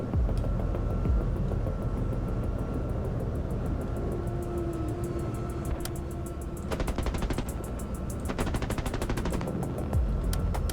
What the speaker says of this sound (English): I would have thought that the cannon would have such a slow rate of fire.